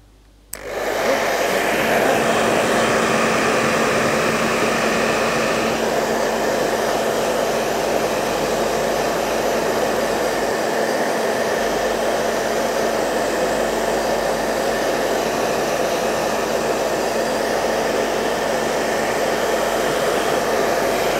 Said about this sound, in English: And then the hair dryer is somewhere here.